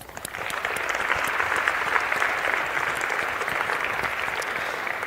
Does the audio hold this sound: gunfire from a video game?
no